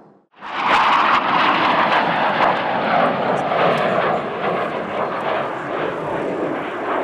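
Blue Angels jets flying a looping maneuver with a loud, sustained roar that holds steady throughout, close and unbroken, with no talk.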